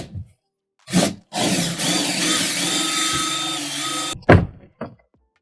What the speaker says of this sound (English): So I'll drill my hole through.